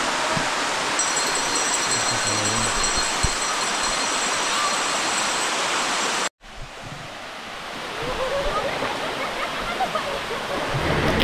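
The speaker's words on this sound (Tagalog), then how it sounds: "So ayan po ang Karugo Falls mga idol dito sa ano lang din yan, malapit sa Wawa Dam." Karugo Falls waterfall near Wawa Dam in Montalban, Rizal, roaring as a steady, loud broadband rush of falling water throughout, with a brief cut partway through before the torrent resumes, close and continuous.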